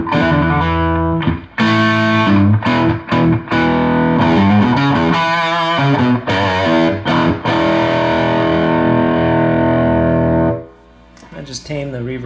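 Electric guitar on the bridge pickup through a modded Maxon SD-9 distortion pedal, loud and close, playing saturated chords and single-note riffs with sustained ringing notes, then cutting off near the end.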